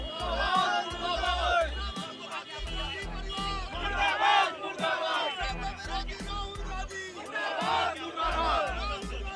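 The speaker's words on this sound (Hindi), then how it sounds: "राहुल गांधी मुर्दाबाद के यहाँ पर नारे लगाए जा रहे हैं" Crowd of protesters shouting rhythmic slogans against Rahul Gandhi at an effigy burning with police present, loud massed voices rising and falling in repeated chant phrases over heavy low thumps.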